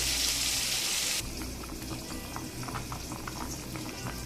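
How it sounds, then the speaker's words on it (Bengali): A pot of rice boils on the stove, with potatoes cooking in with it, giving a soft steady bubbling and simmering hiss that stays low and continuous, with a brighter burst of hiss at the start. "এই দিকে ভাত হচ্ছে, দেখুন"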